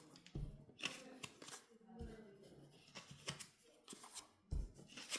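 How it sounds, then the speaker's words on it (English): Cards are drawn and handled in a Lord of the Rings deck-building board game, with close, sharp papery snaps and slides in irregular bursts at the table, while a voice talks in between. "So next we'd let Aragorn draw his 5 cards first."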